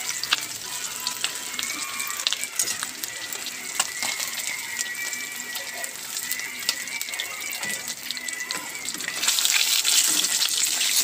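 Food frying in a pan over a home stove, a steady crackling sizzle with scattered pops and some scraping, close and continuous, growing louder and brighter toward the end, with no speech.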